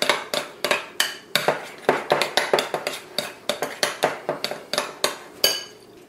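A spoon clinks and scrapes against a bowl while mixing brownie pieces, crushed Oreos and ice cream, giving about two dozen quick, bright, close taps in an uneven rhythm with no voices.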